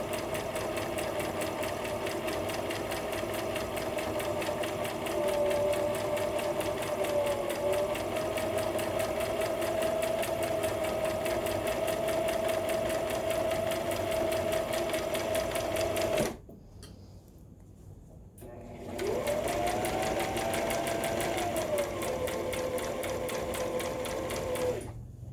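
A sewing machine runs at steady speed, stitching ties onto a fabric mask, its fast rhythmic whir close and loud, then it stops briefly for about two seconds and starts up again.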